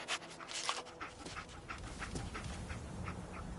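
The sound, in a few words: dog Dogmeat panting in video game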